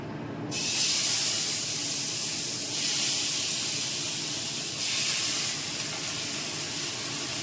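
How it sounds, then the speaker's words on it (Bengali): Fish slid into a hot wok of oil with the flame turned low, bursting into a loud, sustained hiss that swells in waves and keeps sizzling close up without any voices. "এরপর আমি ফ্লেমটা একদম লো করে দিচ্ছি দিয়ে এবার মাছটা আমি ছেড়ে দেবো"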